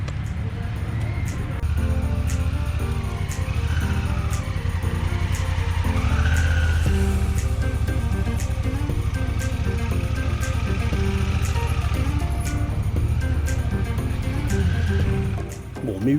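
A motorcycle rides a figure-eight exercise during a training day, its engine droning steadily and rising and falling through the turns over roughly sixteen seconds, close and continuous with some wind noise.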